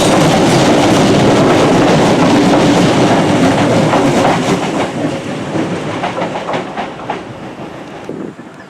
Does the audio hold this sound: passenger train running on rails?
yes